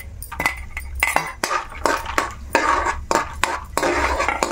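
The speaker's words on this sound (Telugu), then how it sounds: "ఇప్పుడు ఇదిగో ఈ జీడిపప్పుని ఇందులో వేసుకొని దోరగా వేయించుకోవాలి." Cashews frying in hot ghee in a pan, heard as repeated quick metallic scrapes and clinks of a spoon stirring against the pan, close and continuous with no talk.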